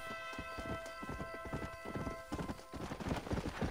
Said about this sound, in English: need to try and summon my horse this way